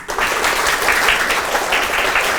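Middle school students applaud their classmates during a school drama activity, with loud, dense clapping that starts at once and continues steadily throughout, with no talk over it.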